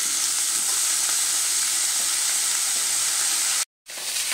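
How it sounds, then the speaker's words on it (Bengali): Vegetables fry in hot oil for a vegetarian cabbage dish, giving a loud, even, close-up sizzling hiss that runs nonstop. The sound cuts out for a brief moment near the end, then resumes. "এই সবজিগুলোকে প্রথমে আমি তেলের মধ্যে দিয়ে একটু ভাজা ভাজা করে নেব"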